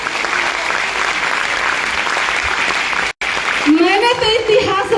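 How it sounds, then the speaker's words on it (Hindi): An audience at a motivational business talk bursts into dense, sustained applause, then after a brief cut a speaker's raised voice rings out over it. "ताली होना चाहिए अपने लिए।"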